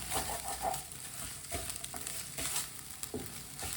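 Chopped ginger frying in a pan, a steady close crackling sizzle with scattered sharper pops and stirring scrapes, no voices.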